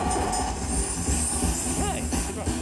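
Train sound effect from the railroad bonus of the Monopoly Big Wheel casino game, a steady rumbling rail clatter with a brief horn-like tone, playing continuously beneath background chatter and game music.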